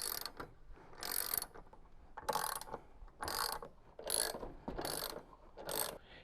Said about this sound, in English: remove the three bolts that hold the upper counterweight securely in position with the 13mm socket set